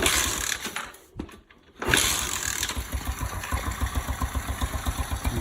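A Lifan 125cc semi-automatic electric-start engine fitted in a Honda CT90 Trail 90 idles with a steady, close, loud putter after a brief dip, settling into an even rhythmic beat.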